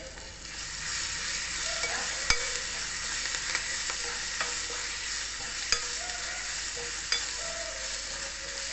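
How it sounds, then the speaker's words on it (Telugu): A steady oily sizzle of ginger and green chilli paste frying, with occasional sharp clinks of a utensil stirring the pan, no voices. "అల్లం పచ్చిమిర్చి పచ్చిదనం పోయేలా వేయించుకోవాలి"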